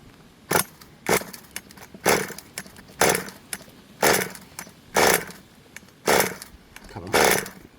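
A twenty-year-old HPI Rush Evo RC car engine, running rich, revs in repeated throttle blips about once a second: loud, close, buzzy bursts that drop back to a low idle between them.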